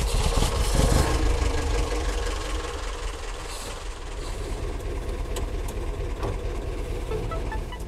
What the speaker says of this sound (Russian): двигатель тарахтит, бензин благоухает, машина дрожит, можно и ехать